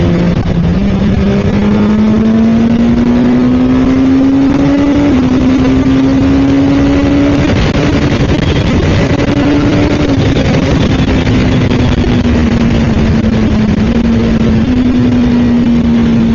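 A Suzuki Katana motorcycle accelerates hard on an open stretch of road. Its engine drones loud and close, with the pitch climbing steadily and dipping briefly at each quick-shifted gear change, all under constant wind roar.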